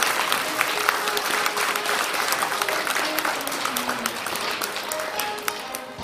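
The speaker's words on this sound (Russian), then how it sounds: "наградим аплодисментами наших победителей" Sustained applause from an audience at an award ceremony for aerial hoop competition winners, dense steady clapping at a fairly loud level throughout.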